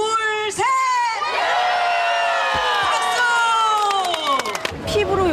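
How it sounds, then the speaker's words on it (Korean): A crowd at a public event cheers and shouts together after a countdown, many voices rising in loud, sustained whoops and cries that trail off after several seconds. "박수"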